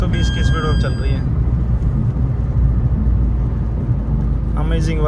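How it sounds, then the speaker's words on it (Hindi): A Tata Nexon CNG car cruising at about 120 km/h, giving a steady, loud low road and engine rumble throughout, with someone talking over it at the start and end. "देख रहे हो सीएनजी की गाड़ी"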